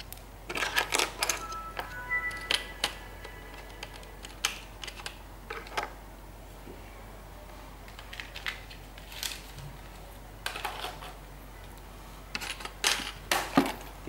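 Someone types on a newly replaced keyboard of an Asus Eee PC Seashell laptop, making irregular bursts of close, clicky keystrokes separated by quiet gaps across the whole stretch.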